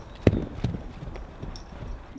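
A horse doing groundwork in an arena, turning on the inside circle, lands a couple of distinct hoof thuds followed by softer, scattered steps, fairly close with no talking.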